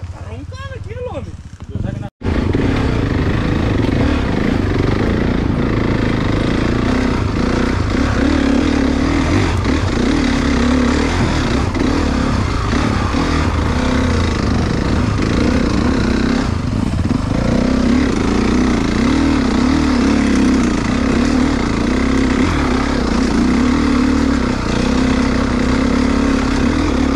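Dirt bike engine with an aftermarket exhaust, such as a CRF 450 or KX 450 on a weekend trail ride, gives a loud, steady, close throaty roar that holds for a long stretch after a short, quieter start.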